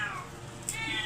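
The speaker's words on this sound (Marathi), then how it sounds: "मांजरी माझी लय रडाली हो." A mother cat crying for her taken kittens, one brief plaintive meow rising and falling, close and fairly soft, heard alone.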